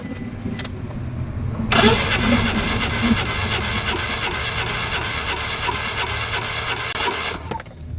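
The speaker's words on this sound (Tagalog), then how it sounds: "Okay, try nating engine start." Suzuki K6A engine in a DA64 vehicle cranking and starting with a compression gauge fitted, a steady loud mechanical churn that begins abruptly and runs for several seconds before cutting off.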